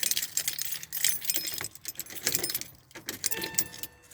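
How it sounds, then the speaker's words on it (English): A faulty door lock motor in a Porsche 911 (996) is triggered, producing rattling, jangling mechanical clicks and buzzes in close, busy bursts across the whole stretch, with no talking. "so this door lock motor is actually bad in this car here"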